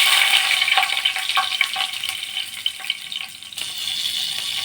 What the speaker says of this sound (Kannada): ಈ ರೀತಿಯಾಗಿ ಫ್ರೈ ಮಾಡಿ ತೆಗಿತಾ ಇದ್ದೀನಿ.